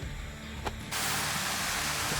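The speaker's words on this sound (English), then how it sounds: "And there's a waterfall." Steady broadband rush of a waterfall somewhere in the Alaskan wilderness, which swells suddenly and then holds as a continuous loud roar, with no talking.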